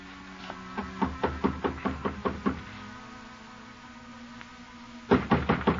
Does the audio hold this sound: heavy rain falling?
no